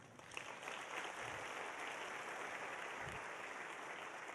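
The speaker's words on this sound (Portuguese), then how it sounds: "Você quer aplaudir? Pode aplaudir." Audience applause at a pastor's 2015 church sermon, a steady, dense wash of clapping that holds at an even level for several seconds, with no one speaking over it.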